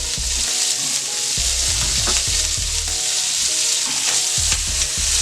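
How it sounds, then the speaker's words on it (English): Lobster and butter sizzle loudly and continuously on a Steelmade griddle, a hot hibachi-style frying hiss with occasional scraping and tool knocks on the metal, close and unbroken with no talking. "Next thing I'm going to add here is a little bit of butter, and I'm going to throw my lobster"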